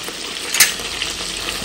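Food frying in a pan over low heat, a steady close sizzle with a brief louder crackle as it is stirred or turned, and no talking.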